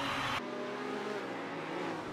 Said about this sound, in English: In the new Ferrari 553, Gonzalez aggressively overtakes Moss, securing fourth place in an early part of the race.